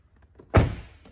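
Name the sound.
car door closing and opening, Buick Regal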